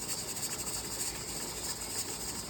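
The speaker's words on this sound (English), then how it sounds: "Our double decker is steaming." A double-decker pressure canner on a canning day gives off a steady, loud, continuous steam hiss with a faint shimmering flutter and no pauses or voices.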